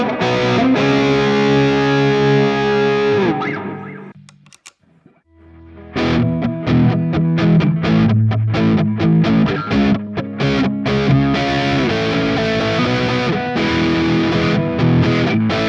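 Distorted electric guitar with rock and metal tones through a Valeton GP-100 multi-effects unit, heavy chugging riffs and sustained chords, loud and close, with a brief silent break before the riffing resumes.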